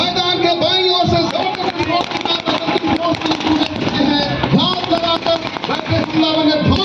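Explosion set off during a CISF commando demonstration to stop a moving vehicle, heard as loud bursts and cracks within a dense roar of engine noise and crowd hubbub, with a commentator talking throughout.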